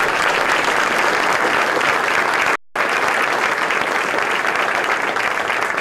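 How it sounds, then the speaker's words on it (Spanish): Loud, sustained applause from a large crowd at a business event opening in Panama, a dense wash of clapping that cuts out briefly in the middle and then resumes at full strength. "fuerte aplauso."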